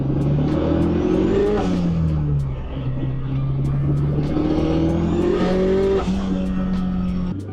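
A Honda K24-swapped BMW E36 is driven hard, its four-cylinder engine revving up through gears with rising pitch, shifting, and revving again, loud and close from inside the car, with some tire noise and no talking.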